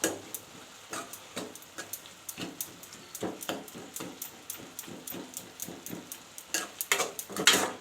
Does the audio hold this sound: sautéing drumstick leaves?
yes